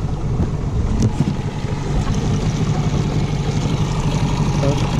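A Tohatsu 9.8 outboard motor being run in on a small boat drones steadily and loudly at close range, with wind buffeting the microphone and water noise around it.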